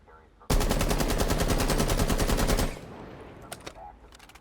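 A rifle fitted with a compensator and a shield fires a single long, loud, rapid automatic burst in Rainbow Six Siege, lasting about two seconds, followed by quieter mechanical clicks.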